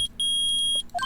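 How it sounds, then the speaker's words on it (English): Electronic metal detector beeping in the Phoenix Wright: Ace Attorney video game, sharp high tones in short repeated bursts followed by a couple of lower blips, loud and clean. "Nick, it's beeping. The metal detector's found something."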